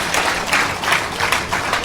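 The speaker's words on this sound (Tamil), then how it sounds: "நல்லா கைதட்டுங்க." Audience clapping at a Tamil debate event, a short burst of many hands with loose rhythmic pulses, steady and moderately loud.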